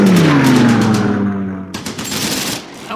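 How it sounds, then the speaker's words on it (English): An airstrike in a war video game hits as a loud, close blast with a descending roar that fades, followed by a rattling burst of rapid gunfire-like explosions. "but we're calling in an airstrike."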